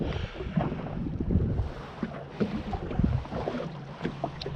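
Choppy lake waves slapping and sloshing around a jet ski, an uneven close rhythm of splashes with light wind buffeting the microphone and no talking.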